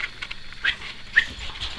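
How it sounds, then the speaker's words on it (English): A Rottweiler gives a few short, soft whimpering yips and whines, with brief scattered calls spaced apart against a quiet background. "Okay, so my dog is here."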